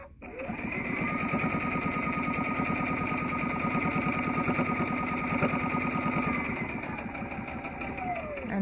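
A sewing machine runs steadily as it top-stitches a fabric bowl cozy, a fast, even mechanical chatter held close for several seconds without stopping.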